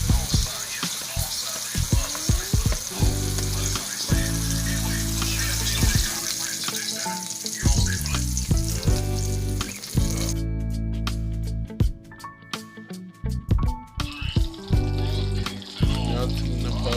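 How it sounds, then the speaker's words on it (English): Butter melts in a pan for breakfast quesadilla eggs, giving a soft frying hiss mixed with irregular clatters and bumps of kitchen handling that come and go, with a brief quieter gap partway through. "Melting the butter for our egg"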